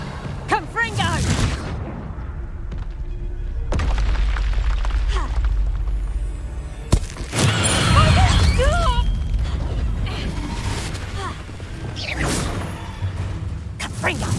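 Fire-blast spell in the video game Hogwarts Legacy, with booming explosive bursts and whooshes layered over ongoing game effects and a voice talking intermittently.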